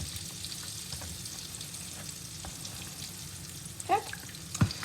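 Cornmeal-battered green tomatoes frying in a pan, a low, steady sizzle running throughout with a couple of brief clinks and knocks near the end, no talking.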